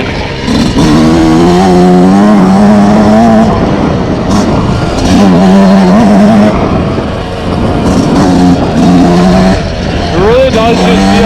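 A 2026 Yamaha YZ125X two-stroke dirt bike revs up and down repeatedly while being ridden on a rocky trail, a loud close engine wail with rising and falling pitch.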